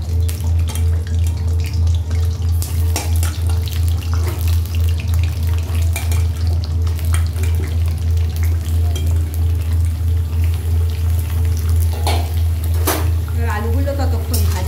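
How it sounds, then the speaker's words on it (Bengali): Potatoes frying in oil in a home kitchen, a steady loud sizzle with some clatter and stirring throughout, and a voice talking over it now and then. "আলুগুলো ততক্ষণ ভাজা হোক।"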